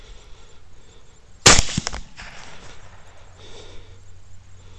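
A single sharp gunshot cracks out during a night hog hunt, fired at a downed hog that may still be moving, followed by a brief scatter of rattling noise before quiet outdoor ambience returns.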